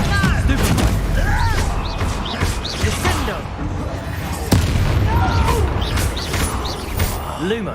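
A Descendo spell cast in Hogwarts Legacy lands with a sharp booming impact midway through busy combat effects, whooshes and mechanical clatter, with voices mixed in.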